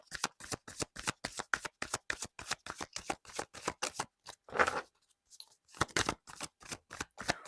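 Oracle cards shuffled in rapid, crisp riffles and bursts, close and fairly quiet, with a short pause and a few softer card slides before the shuffling resumes; no talking.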